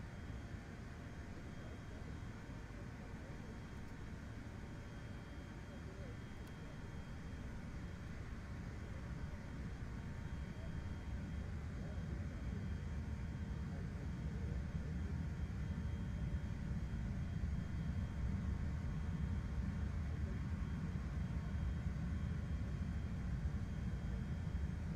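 Steady low rumble of rear-mounted jet engines on a CRJ 700 regional airliner in MSFS 2024, a muted continuous drone heard from the cabin that swells slightly louder over the stretch, with no talk.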